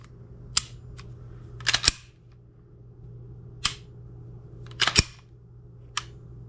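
Trigger of a Walther PPQ 45 pistol being dry-pulled and reset, a series of sharp close mechanical clicks, some in quick pairs, spaced irregularly over a faint steady hum.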